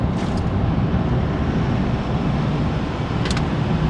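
A Chevy Silverado Duramax diesel engine with a P249D fault roars under hard throttle, a loud, steady low rumble heard close up from inside the truck with wind noise and no talking.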